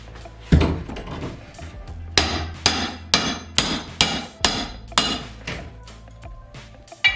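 A crowbar batters and pries at bathroom fixtures during demolition, landing about eight loud, hard metallic blows at a fairly steady pace, close by and with no one talking.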